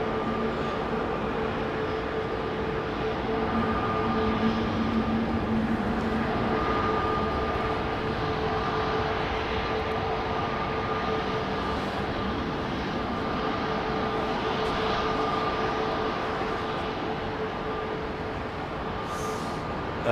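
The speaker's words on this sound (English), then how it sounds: "the unique design of the fan blades of the Pratt & Whitney engine create that howl that we hear, the low pressure howl" Airbus Beluga XL departing, its Pratt & Whitney engines giving a steady low-pressure fan howl with faint tonal whines over a continuous rumbling roar, sustained and moderately distant.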